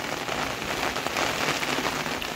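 Sudden heavy monsoon rain falling outdoors near a filled village pond, a dense, loud, continuous patter and hiss of drops on surfaces with no pauses.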